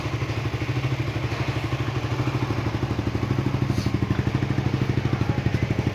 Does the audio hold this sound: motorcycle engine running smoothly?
yes